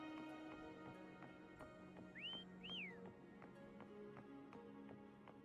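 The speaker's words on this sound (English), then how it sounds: "Try whistling." A character whistles in the video game Wuthering Waves, two short rising-and-falling whistled notes standing out over soft ambient game music and light rhythmic taps.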